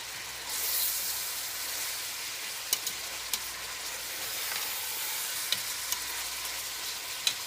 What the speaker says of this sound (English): So I'm going to just saute it for another minute